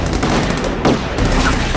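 Rapid armor-piercing gunfire from The Amazing Spider-Man 2 video game, a dense loud burst of shots with a sharp crack near the middle, close and without talk.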